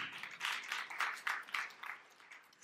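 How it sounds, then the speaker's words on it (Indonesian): Applause from a church congregation, a burst of rhythmic clapping that swells and fades in uneven waves, fairly close and without talk. "Tepuk tangan yang meriah untuk kemuliaan Tuhan."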